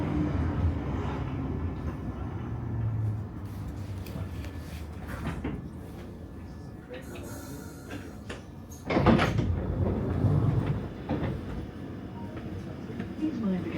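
Piccadilly Line London Underground train standing at Barons Court station, with a steady low rumble, door and carriage clatter, and a louder surge near the end, under a recorded announcement.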